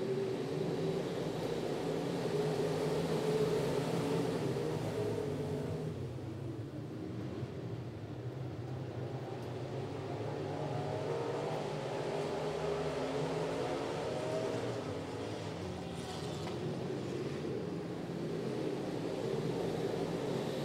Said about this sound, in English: As James Marshall continues to set a blistering pace in car number five.